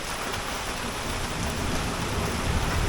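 Heavy rain pours down steadily in a dense, continuous rushing hiss with a low rumble beneath it, loud and close, with no voices.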